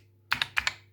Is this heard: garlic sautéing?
no